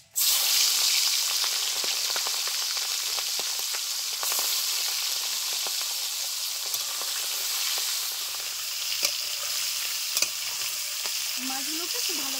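About 200 g of turmeric-and-salt-coated prawns fry in a good amount of hot mustard oil, a steady, close, dense sizzle that runs throughout with occasional faint clicks and pops and no speech.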